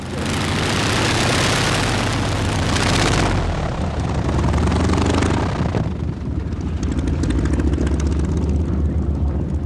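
A Polikarpov wooden-fuselage fighter plane's 1,000-horsepower nine-cylinder radial engine roars loudly at an air show, with a deep, throbbing drone that shifts in tone as it runs.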